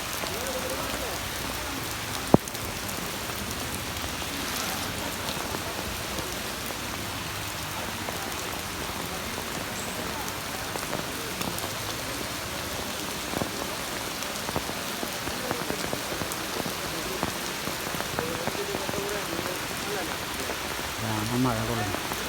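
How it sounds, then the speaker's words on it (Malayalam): Steady rain pattering on surfaces at an elephant temple festival (pooram) in Kerala, a dense even wash of drops lasting throughout with faint crowd murmur underneath. "മഴ കൊള്ളുന്നു."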